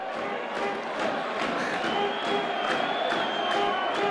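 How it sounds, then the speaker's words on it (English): Stadium crowd at a 2005 rugby league match between Warrington Wolves and Wakefield Wildcats, a dense, steady roar of cheering and shouting spread evenly across the whole stretch with faint claps and whoops. "The army cheering them on now."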